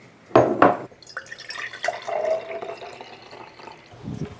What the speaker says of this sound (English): So let's pour some sun tea and then we'll actually start writing.